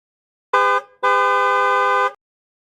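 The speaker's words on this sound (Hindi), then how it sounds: "मैं बाइक का हॉर्न दिखाता हूँ।" A motorcycle horn honks twice nearby, loud and close: a short beep followed by a longer, sustained blare, with silence before and after.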